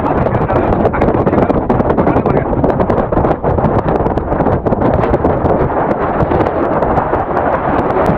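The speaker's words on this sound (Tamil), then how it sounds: "நம்மளால் நிற்கவே முடியல அந்த அளவுக்கு காற்று தள்ளுது" Strong cyclone wind buffeting a microphone on the Rameswaram seashore, a loud, continuous roaring rumble with gusty surges and no pauses throughout.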